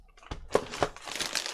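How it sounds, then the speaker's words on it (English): Crinkling plastic bag and bubble wrap packaging from an unboxing, handled close up in a series of irregular crackling rustles and crunches, with no voices. "it all came really nicely parcelled up in this bubble wrap, and then again in a lovely plastic bag"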